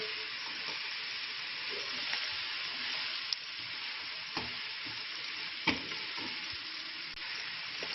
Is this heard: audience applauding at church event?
no